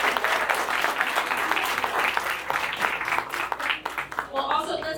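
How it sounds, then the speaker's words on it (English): At a rehabilitation hospital's ten-year anniversary ribbon cutting, a crowd breaks into loud, dense applause that carries on steadily, and a voice begins speaking as the clapping thins near the end. "Let's give them a round of applause."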